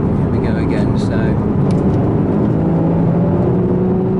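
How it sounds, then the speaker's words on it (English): Porsche Cayman engine, driven in manual mode while downshifting through the gears, holds a loud, steady drone with a rising whir. "So I'm going to go down a couple of gears. So this is where I'm able to work the gearbox."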